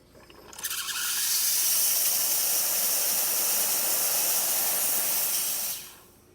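An Isomac espresso machine's steam wand, just serviced, lets out a steady, loud hiss of steam that starts abruptly, holds for about five seconds, then cuts off.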